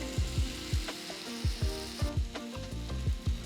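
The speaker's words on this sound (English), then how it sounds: "Grill the paneer and the vegetables by turning them at intervals" Paneer and vegetable skewers sizzle on a ghee-brushed grill pan, a constant fry hiss broken by repeated soft knocks and scrapes as they are turned, with no talk.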